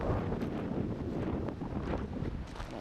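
Wind blows hard outdoors beside a Colorado lake, buffeting the microphone with a continuous broadband rumble and gusts, heard alone without talk.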